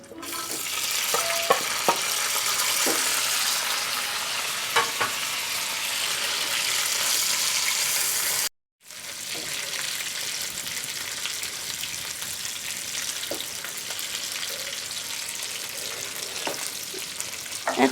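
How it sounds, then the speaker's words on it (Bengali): Rohu fish pieces frying in a pan, a loud, dense hiss of hot oil with scattered pops, broken by one brief pause before the sizzle resumes steadily. "এখন আমি আবারও মাছগুলো ঢেলে দিব এখন"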